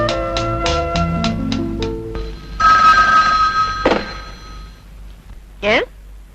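A telephone rings in a film scene, a run of quick repeated bell bursts followed by a longer sustained ring, with a thunk and a brief voice near the end.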